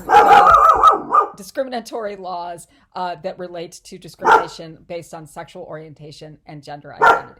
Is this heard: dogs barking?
yes